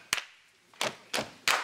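Boys clap hands to a rhythm at a party, four sharp, separate claps with gaps between them, clear and fairly close with no talking.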